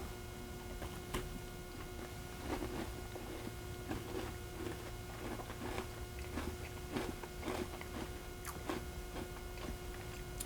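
Bites and chewing of crunchy pecan biscotti, a series of sharp crunches spaced every second or so over a steady low electrical hum, close to the microphone with no talking.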